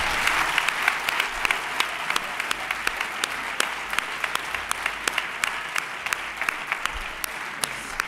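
Sustained, dense applause from a crowd at a municipal sports awards gala in San Sebastián de los Reyes, steady and fairly close, with individual claps standing out throughout.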